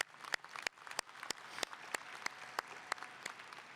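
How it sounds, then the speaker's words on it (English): Audience applause fills a commencement ceremony at San Jacinto College, a steady dense clatter of many hands with sharp individual claps standing out, holding at an even level throughout with no talk. "Let's give our family a round of applause."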